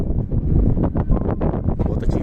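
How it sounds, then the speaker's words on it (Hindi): Wind gusting outdoors in an open industrial area at a primary electrical substation in Abu Dhabi, heavy low buffeting roar against the microphone, loud and continuous with uneven swells. "बहुत अच्छी हवा चल रही है।"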